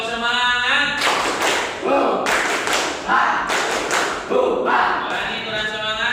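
A school class in a lesson claps out a rhythmic spirit cheer, bursts of sharp group claps in a patterned beat with chanted voices between them, close and loud in a classroom.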